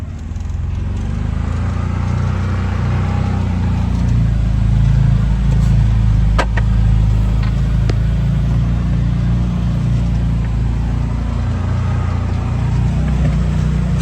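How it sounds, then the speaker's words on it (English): A car drives along a snowy rural road, its engine and tyres making a steady, close, low rumble that holds unbroken throughout with no talking. "Just thought you guys might enjoy the drive."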